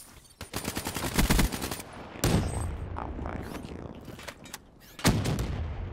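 Rapid bursts of Man O' War rifle fire in Call of Duty: Black Ops 3, loud close volleys with sharp report onsets repeating across the clip.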